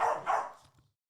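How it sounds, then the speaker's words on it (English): A dog named Viona letting out a loud double bark, two quick, strong woofs that fade out fast, heard alone and fairly close. "that was the loudest bark I've ever heard from Viona so far"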